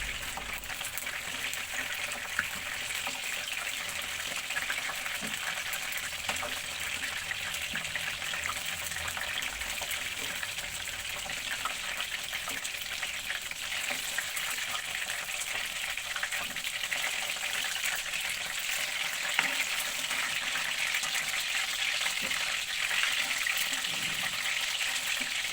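Chicken pieces frying in a pan, a steady broadband sizzle and hiss that runs unbroken and fairly loud throughout with no voices.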